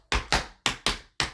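Tap shoes striking a hard floor in a double time step: five sharp, loud, close taps in uneven paired rhythm with brief silences between them.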